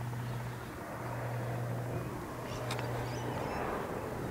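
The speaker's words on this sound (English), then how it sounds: "It's another plane." Aircraft passing overhead in a quiet cemetery, a steady broad roar with a low droning hum, no voices.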